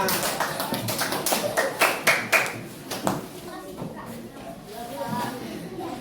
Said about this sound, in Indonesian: Oke, tepuk tangan semuanya